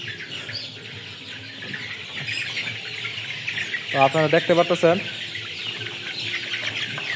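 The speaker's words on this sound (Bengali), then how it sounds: "মুরগিগুলা এখানে মানে প্রচণ্ড ঘন হয়ে গেছে।" Crowded 28-day-old chickens on a poultry farm make a steady background murmur, then a short burst of close clucking calls, while someone talks over the flock.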